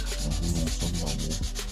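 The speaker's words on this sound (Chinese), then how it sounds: "然后用砂纸打磨。" Sandpaper is rubbed by hand over freshly gray-primed metal parts of a restored 1980s toy dump truck, giving a close, steady, rhythmic scratching stroke repeated about ten times on a rattling table.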